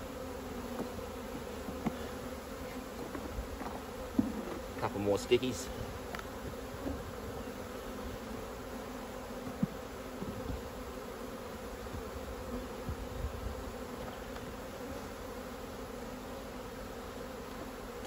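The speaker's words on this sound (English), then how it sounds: "Let's push those bees down." Honeybees hum steadily from an open hive during spring management of single to double boxes, a continuous near drone with brief louder swells as frames are moved and a voice speaks over it.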